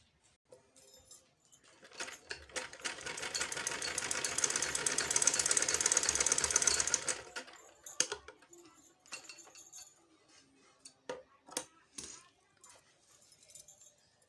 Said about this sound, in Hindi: अब हम इसको किनारे पे सिलाई लगा के इसको अटैच करते हैं।